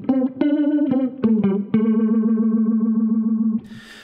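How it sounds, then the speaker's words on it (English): A sustained electric guitar tone through a MayFly Audio Sketchy Zebra pedal with feedback turned down throbs with a steady tremolo pulse after a few picked notes, loud and close, before cutting off. "you'll hear a little bit more of a tremolo effect."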